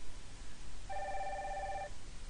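Live chat incoming request ringing tone from a website chat monitor, a single clean electronic ring lasting about a second over a faint background hiss.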